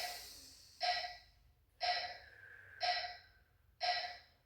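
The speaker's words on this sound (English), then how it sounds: "Good inhales and exhales" Deep breathing during a men's stretching session, four evenly spaced audible breaths, each a sharp rush of air that tapers off, close and fairly quiet with still pauses between them.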